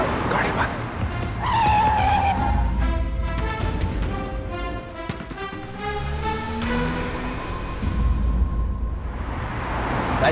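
A car maneuvers into a parking spot with tires squealing and the engine working, loud and close, while people talk over it in a drama scene.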